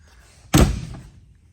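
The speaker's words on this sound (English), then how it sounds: "the doors with the new latches and everything are shutting good and tight" A Ford Model A car door with new latches shuts once, a single close, solid slam with a short thudding decay and no talking.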